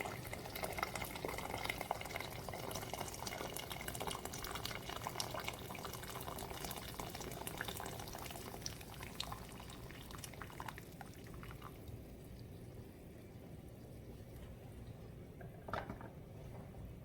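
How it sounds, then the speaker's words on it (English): Boiling water pours steadily into a cooking pot for quedra, a long continuous splashing rush that thins and quiets toward the end, with a brief knock near the close. "Then I'll be adding, as usual, boiling water."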